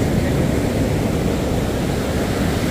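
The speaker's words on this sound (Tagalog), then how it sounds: "So tingnan mo yung mga alon guys, ang laki ng alon." Large ocean waves at Hampton Beach surge in a broad, steady roar of surf, loud and unbroken with no voices.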